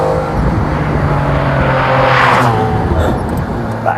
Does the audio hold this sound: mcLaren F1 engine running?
yes